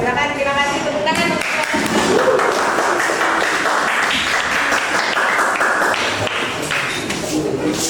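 A group claps steadily for several seconds after a group presentation in an Indonesian teacher-training session, a dense patter of hands, while a voice can be heard briefly above it.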